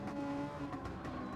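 A Super Formula race car spins at Autopolis in a racing video game, its engine note wavering under steady tire squeal and skidding noise, loud and close throughout a short burst.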